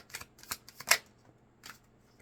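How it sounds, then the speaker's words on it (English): A deck of tarot cards is shuffled close by in a few quick riffling bursts with short pauses, with no talking. "You watched me shuffle."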